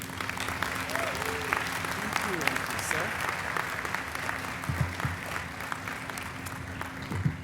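An audience in an indoor hall gives steady, sustained applause at an academic excellence awards ceremony, welcoming Dr. Stephen Kane, the clapping dense and even throughout without talk.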